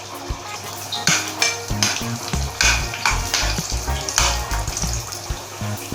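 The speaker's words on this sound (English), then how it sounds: "So very quickly I'll put all the onions into this and make it a little brownish in color." Onions frying in hot oil in a pan for crab curry, a steady close sizzle broken by repeated scraping and clinking strokes of a utensil stirring against the pan.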